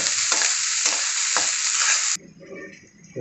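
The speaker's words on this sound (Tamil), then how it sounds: "கட்டி வச்ச பூண்டு, கருவேப்பிலை, எல்லாத்தையும் நல்லா வதக்கிடுங்க." Garlic and curry leaves sauté in a hot pan with a loud, close, continuous sizzle and stirring for about two seconds, then the frying drops to a softer hiss.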